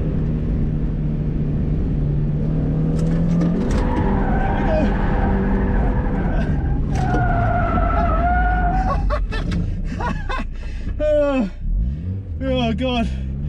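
A Mazda MX-5 Miata Eunos Roadster drift car, a barn find, revs hard and slides, its engine loud and near with tyre squeal rising near the end while people shout and talk over it.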